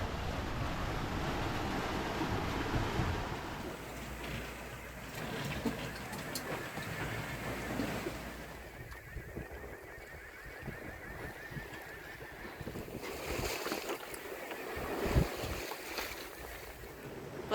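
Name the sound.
sailboat under mainsail, waves and wind at sea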